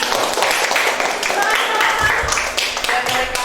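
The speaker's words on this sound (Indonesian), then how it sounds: "kita kasih aplaus untuk kelompok 1 ya" A class applauds a student group, broadband clapping running steadily throughout at moderate loudness, with voices mixed in.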